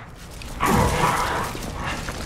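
A dog bark in the video game Lies of P, a single short, fairly loud yelp standing out briefly over a low background, then fading.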